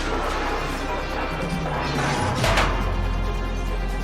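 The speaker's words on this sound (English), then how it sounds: "Pollux crashes directly above the main lobby and lands at his brother's feet." A character crashing down through a building onto a lobby floor, heard as a loud sustained crashing rumble with a sharp impact and whoosh near the middle, followed by low heavy rumbling.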